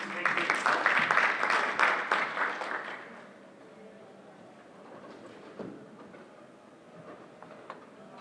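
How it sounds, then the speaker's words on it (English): Audience applause at a physicians' coaching seminar rises in a loud burst of clapping for about three seconds, then fades into quiet room noise with a few scattered claps. "Big hand of applause, please."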